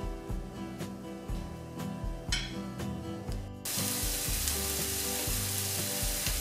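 Chopped onion fries gently in a pan for a zucchini stuffing, giving a steady soft sizzle with occasional clinks of a utensil, close and continuous without talk.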